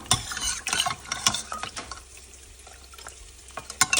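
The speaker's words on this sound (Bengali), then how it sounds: "লঙ্কা কুচি আর রসুন কুচি দিয়ে একটুখানি ওটাকে ফ্রাই করছি" Chopped chilli and garlic fry in a pan, with loud scraping stirs in bursts over a soft, steady sizzle.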